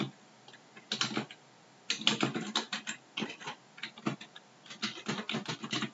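Keystrokes on a computer keyboard as an email address is entered, arriving in several quick bursts of clicky taps with short pauses between them, moderately close and with no talking.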